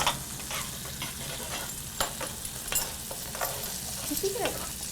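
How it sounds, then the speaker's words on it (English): A tablespoon of Dijon mustard being stirred into a hot pan: steady sizzling and frying with a continuous scraping stir, close and fairly loud, with brief clinks of utensil on the pan. "I'm going to add a tablespoon of the Dijon. Can you stir that in?"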